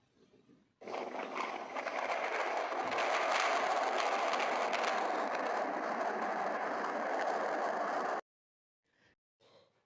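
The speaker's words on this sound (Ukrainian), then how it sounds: "Вірно, це звуки грози." A thunderstorm: a continuous broadband rumble and hiss like heavy rain with thunder, rising abruptly, holding steady for several seconds, then cutting off into near silence.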